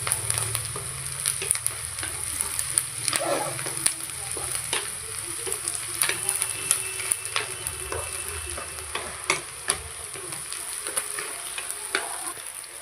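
Onions frying in a pan for an aloo methi sabzi, a steady close sizzle with scattered crackles and occasional stirring scrapes, no voices.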